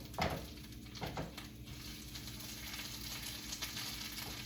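Chorizo frying in a pan, a soft steady sizzle with a few sharper crackles and pops early on, quiet and close, no talk.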